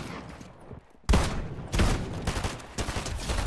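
Rapid gunfire bursts from a video game shooter, loud and close, with a brief quiet gap before several heavy, crackling blasts in quick succession.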